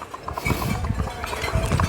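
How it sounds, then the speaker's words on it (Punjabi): Hooves of a Dal Panth horse strike the ground in a quick, even walking gait, close and fairly loud, with faint background noise and no voices. "ਦੇਖੋ ਦਲ ਪੰਥ ਦੇ ਘੋੜੇ ਦੀ ਕਿੰਨੀ ਵਧੀਆ ਚਾਲ ਆ ਗਈ"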